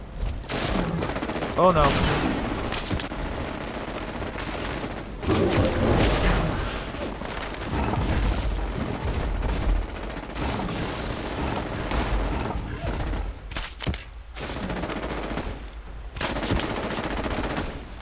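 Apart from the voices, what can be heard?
gunfire in the video game Fallout 76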